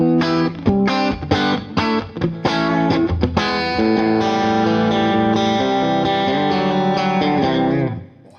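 A modelled guitar amp with a chorus effect and speaker-simulated distortion sounds thick and shimmering. Several clipped, strummed chords open it, then one long sustained chord rings out loudly and fades near the end.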